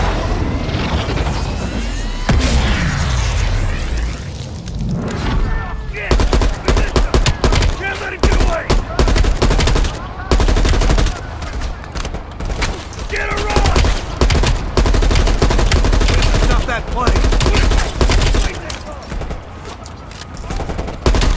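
Heavy, loud gunfire in Black Ops Cold War: dense, rapid volleys and automatic bursts crackle nearly nonstop, mixed with crashes and booms, while voices speak intermittently underneath.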